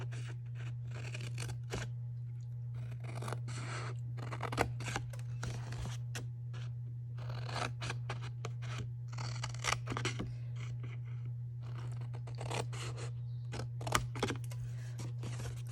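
Scissors cut cardstock along score lines, making repeated close snips in uneven groups over a steady low electrical hum.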